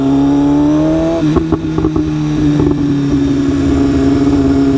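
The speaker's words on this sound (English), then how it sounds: "I love the way my exhaust backfires." BMW S1000RR motorcycle with an SC Project exhaust, its loud engine drone broken by a short burst of sharp popping backfires before the steady tone resumes, close and with no talk.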